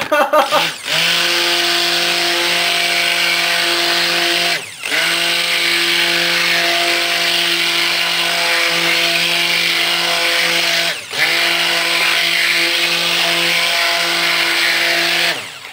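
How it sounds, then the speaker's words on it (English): A stick blender mixes pure silk soap batter in a jug, a loud, close, steady motor drone in three long runs split by brief pauses. "And Celine is now going to stick blends as well after she cleans out the jug."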